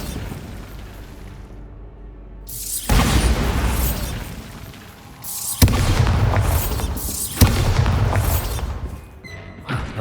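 The Bombarda blasting spell in Hogwarts Legacy goes off as a loud, deep boom after a quiet moment, followed by rumbling debris and several further crashing impacts that stay close.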